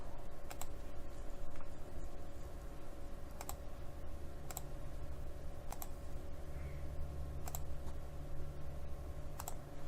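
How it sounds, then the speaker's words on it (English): Sparse, distinct key presses click at irregular intervals over a steady low hum, faint and close, with no voices. "using my keyboard"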